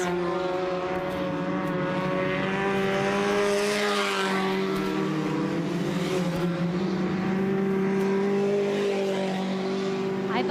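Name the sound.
dirt track race car driving around the track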